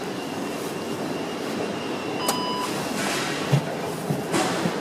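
A train standing at a Belgian railway station fills the air with a steady rumbling hum. A brief high tone and a few soft clanks sound over it, and no one speaks.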